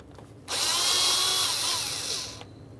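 A power drill runs for about two seconds, a loud, steady high whine that rises and then cuts off, removing an upper panel mounting screw on a Jeep Grand Cherokee with no talk.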